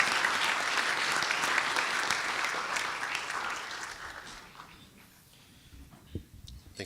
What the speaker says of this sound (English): May we have a round of applause for Datuk Syahril?